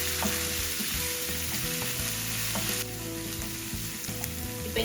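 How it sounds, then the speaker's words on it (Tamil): Crushed ginger-garlic paste fries in hot oil, giving a loud, dense, steady sizzle close up, with a few light clicks and a brief dip in intensity partway through; no talking. "இந்த இடிச்சு வச்சிருக்கிற இஞ்சி உள்ளி பேஸ்ட்டை நான் இதுக்குள்ள போட போறேன். போட்டு ஒரு கொஞ்ச நேரம் இந்த பச்சை மணம் போகும் வரைக்கும் இதை நான் வதங்க விட போறேன்"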